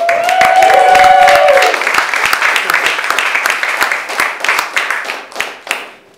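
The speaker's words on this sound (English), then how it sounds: "I want you to give a big round of applause for Garrick Bernard!" A comedy club audience in Los Angeles applauds and whoops as a comedian is introduced, a loud burst of clapping with a shrill whistle or cheer at the start, then thinning into scattered claps that fade out.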